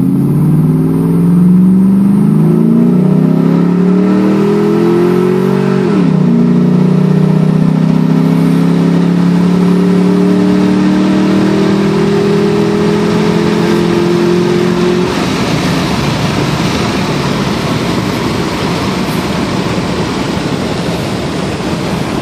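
A 2011 Ram 1500 pickup with a 4.7L engine accelerates hard on a stretch of road from 0 to 80 mph, its engine drone rising steadily in pitch with a gear-shift dip, then giving way to loud road and wind roar. No one talks.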